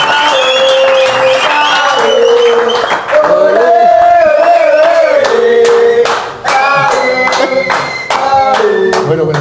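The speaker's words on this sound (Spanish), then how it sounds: "un aplauso para el señor Paul Ambrosi" A television studio audience on a Spanish-language football talk show claps rhythmically for guest Paul Ambrosi, the loud, regular beats ringing out beneath music and raised voices.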